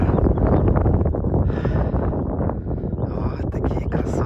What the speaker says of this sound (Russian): И дикий-дикий ветер.